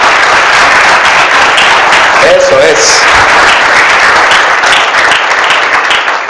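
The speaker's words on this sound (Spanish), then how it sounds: "vamos a romper ese silencio con un fuerte aplauso al Señor Jesucristo" Church congregation at a worship service applauds loudly and continuously, with someone briefly speaking over the clapping.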